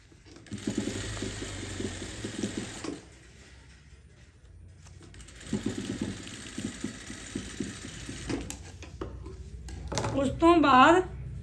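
A sewing machine stitching a salwar hem runs in two long close bursts of rapid rhythmic whirring, separated by a pause, with a person talking over it.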